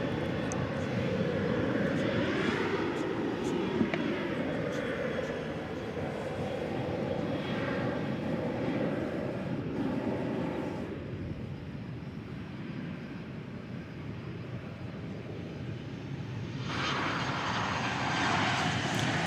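American Airlines Boeing 737-800 bound for San Antonio lifting off at DFW Airport, a sustained jet engine roar at moderate distance that eases midway and then swells again.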